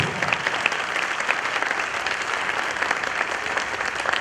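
A church congregation at Sunday Mass on the Feast of Christ the King applauds loudly, a dense, even burst of clapping filling the room without pause.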